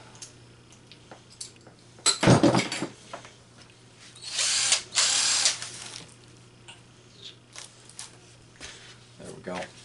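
A power tool whirs in two short bursts, the second longer, while the last bolt comes off a Volkswagen Rabbit cylinder head, with quieter clinks of tools and handling in between.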